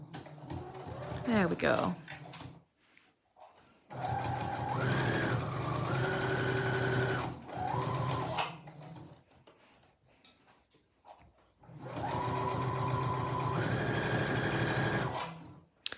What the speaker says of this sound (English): I'm sewing all the way around